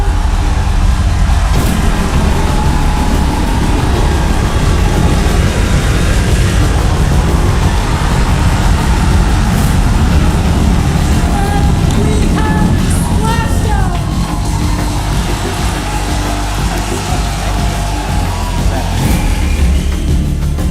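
A SpaceX booster performs its landing burn, heard as a sustained, loud rocket roar with deep rumbling and crackle that stays heavy and continuous, with a commentator's voice partly over it.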